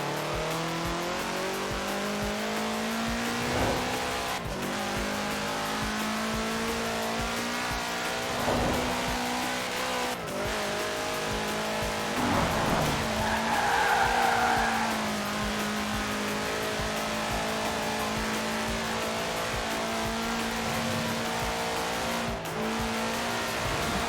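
A Volkswagen Type 2 van races at speed in the Forza Horizon 4 video game, its engine droning steadily at high revs for the whole stretch with brief surges and faint tire noise, loud and continuous with no talk.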